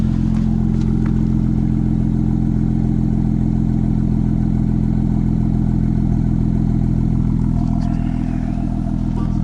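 A BMW car with its stock exhaust, set in Sport Plus mode, holds a loud, steady, deep engine rumble close by for the whole stretch, with faint clatter and no talking.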